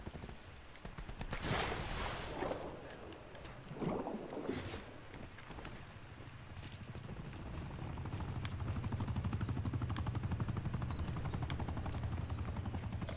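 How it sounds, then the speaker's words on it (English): An attack helicopter approaches in a multiplayer shooter video game, a steady rotor and engine roar that builds louder over several seconds. Wind and other game noise sit underneath. "Hostile attack chopper inbound."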